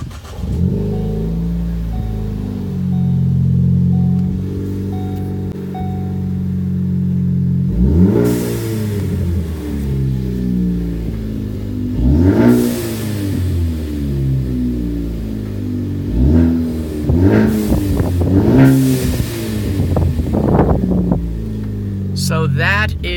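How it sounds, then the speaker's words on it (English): Engine and exhaust of a 2015 Ford Focus ST revving from idle, loud throaty blips rising and falling repeatedly with sharp pops, close by, with occasional talking underneath. "So that is the exhaust."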